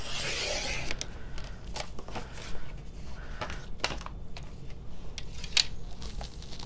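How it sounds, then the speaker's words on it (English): A paper cutter slicing scrap paper into rectangles, giving a run of sharp, brief cutting and scraping strokes at an uneven pace, close by and moderately loud, with no talk. "out comes the paper cutter. So I am just going to follow the lines here and cut these into"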